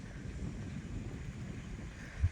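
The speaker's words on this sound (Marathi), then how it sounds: "एकदम आपल्याकडे पण वादळ सुटलेलं आहे मित्रांनो. तुम्हाला वारा तर दिसतच असेल." Stormy wind rushing past a microphone outdoors, a steady low rumbling buffet with rustle, continuous and fairly loud, with a stronger gust near the end and no voices.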